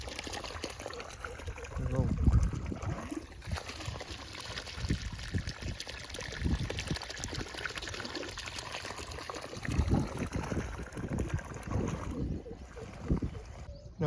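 Irrigation water runs steadily into a wheat field during its final watering, a continuous trickling and gurgling flow with occasional low thumps and rumbles underneath.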